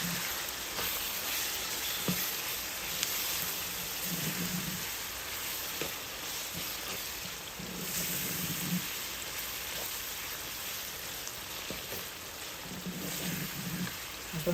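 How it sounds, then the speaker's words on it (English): Spicy sardine gravy base frying steadily in a pan for African cooking, a continuous broadband sizzle like light rain that holds at an even level, with a few faint clinks and soft stirring sounds now and then. "let it continue to fry"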